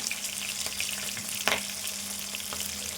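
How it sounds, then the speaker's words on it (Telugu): Potato and tomato pieces with mint frying in a pan for aloo pulao, a close, steady sizzle with a few light stirring clicks and one sharper clatter midway, no talking. "పుదీనా ఆలు ముక్కలు వేసుకుందాము టమాటా ముక్కలు వేసుకుందాము"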